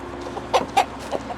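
Backyard chickens let out on a cold morning give a few soft clucks close by, over a steady low background hum.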